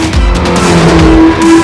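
A Ferrari 488 GTB drives hard on a racetrack in Las Vegas, its engine loud and sustained with a steady high tone and a brief tire squeal.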